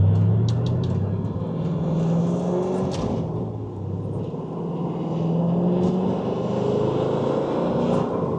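A 2004 GTO with a manual gearbox drives along, its engine a steady low rumble that dips and swells as gears are changed, with road noise throughout.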